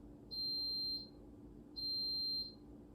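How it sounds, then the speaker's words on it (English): Two long, high-pitched electronic beeps from a rice cooker, evenly spaced, with quiet background between them. "Ignore the beeping. I made rice."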